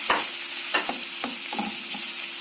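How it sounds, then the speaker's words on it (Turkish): A steady, dense sizzle of chopped onions frying in oil, with occasional scrapes and clacks of a utensil stirring the pan. "soğanlarımız iyice kavrulmasını bekleyeceğiz."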